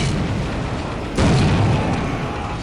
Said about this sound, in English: I'm gonna try and throw a flashbang